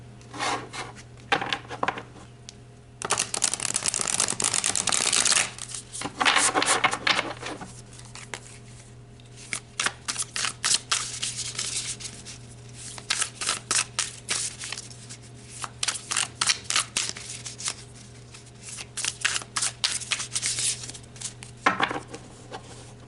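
Tarot cards being shuffled and pulled, with repeated soft riffling and rubbing bursts in close, irregular clusters over a steady low hum, no talking.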